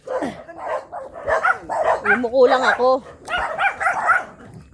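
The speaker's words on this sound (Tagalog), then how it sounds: "Ay, may aso pa." A dog barks and yips repeatedly outdoors near a mango tree, close and fairly loud, overlapping someone talking in short exclamations.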